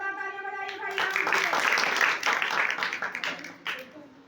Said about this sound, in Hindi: जोरदार तालियां बजाइए भाई राम